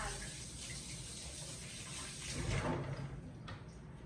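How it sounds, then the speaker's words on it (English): Hands being washed under a running kitchen tap while making pizza, a soft, steady water rush and splashing heard faintly and close, with no clear talk. "now just gonna wash my hands"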